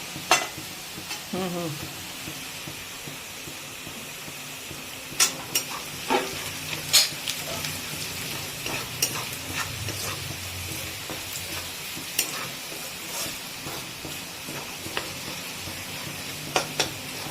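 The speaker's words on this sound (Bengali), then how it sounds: "এখানে আদা রসুন ভাজা হয়ে গেল।" Ginger and garlic fry in a pan with a low, steady sizzle, broken by frequent stirring clatters and scrapes of a utensil against the pan, heard close throughout.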